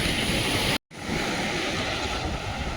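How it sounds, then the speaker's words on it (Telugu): Strong sea waves surge onto Pakali beach in a continuous loud roar mixed with wind noise, broken by a brief dropout of silence. "ఒకసారి అలలు చూడండి. ఇవాళ చాలా అయితే ఫోర్స్గా వస్తున్నాయి"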